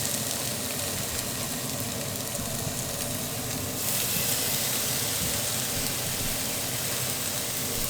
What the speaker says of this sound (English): I'm going to just put it right on the grill. Oh, you hear that sizzle?